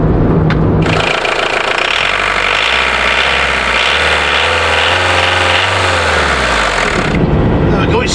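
The engine of a Citroen Berlingo / Peugeot Partner van runs rough and uneven with a loud harsh rattling drone that wavers in pitch, close up and dominating the scene.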